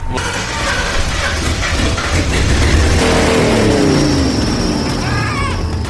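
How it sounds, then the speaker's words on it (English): Engine of a Lincoln 4x4 with persistent running problems cranking and revving loudly up close, a rising mechanical whine sweeping upward as it accelerates over a steady rumble. "I have literally spent ages trying to make this car run."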